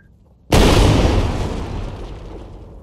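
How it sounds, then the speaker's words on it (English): A single loud artillery cannon shot booms in a VR training game, striking suddenly after near silence and then rumbling down over about two seconds. "On my cue, use the trigger button to fire."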